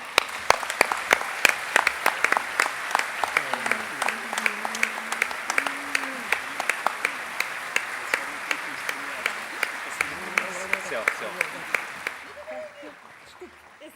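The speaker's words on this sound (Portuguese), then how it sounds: "Um grande aplauso." Applause at an awards gala ceremony, with sharp individual hand claps standing out over a continuous crowd clapping. Faint voices murmur underneath, and the applause fades out near the end.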